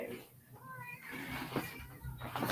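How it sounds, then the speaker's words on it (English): A house cat meows a few times indoors at close range, its short mewing calls mixed with a voice speaking over them. "What are you doing, kitty?"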